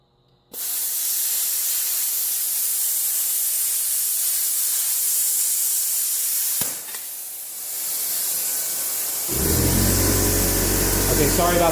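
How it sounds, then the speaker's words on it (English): A workshop air compressor runs loud and steady with a broad hiss, dips briefly midway, then continues with a deeper motor drone in the final seconds. "sorry about the compressor"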